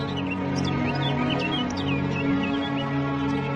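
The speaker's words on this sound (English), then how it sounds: "You hear those two birds?" Two birds chirp and call back and forth in short, rising and falling notes over a steady low background hum, with no voices.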